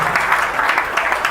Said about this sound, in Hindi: सभी ताली बजाएंगे, गुरुदेव का स्वागत करेंगे